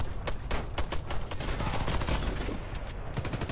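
Rapid machine-gun fire from an enemy gun in Warface, a fast rhythmic train of sharp shots at moderate distance, steady and continuous with no voices over it.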